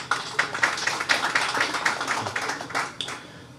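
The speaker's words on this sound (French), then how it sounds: "je vous demande de l'applaudir chaudement." Scattered hand claps from an audience at a football club ceremony for Tempête FC and Baltimore SC come as a short run of fairly rhythmic, moderately close claps that thin out after a few seconds.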